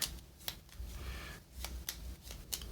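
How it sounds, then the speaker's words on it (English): A deck of cards is shuffled in several quick riffling bursts with crisp snaps between them, faint and close, with no voices. "I knew there was something wrong with my shuffling"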